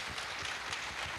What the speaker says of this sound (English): another round of applause for Leon.